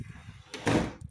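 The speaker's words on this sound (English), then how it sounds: "So I'm gonna go here and shut the door" A door is pushed shut at a home in rural Honduras, giving one brief, soft thud that follows a faint rustle and fades quickly in a quiet room.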